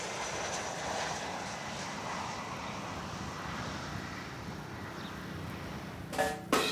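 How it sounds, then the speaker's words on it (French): A landing airplane rumbles low and distant over an urban farm garden in Cotonou, Benin, a faint, steady drone that fills the background, with a couple of short nearby knocks at the very end. "Seul l'atterrissage des avions vient perturber le calme de ce havre de paix."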